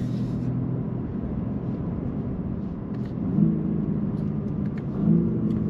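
A BMW M3 xDrive descends the Col de la Bonette mountain pass, its engine a steady low rumble with road roar, swelling briefly twice as the throttle opens, heard from inside the car with no talk.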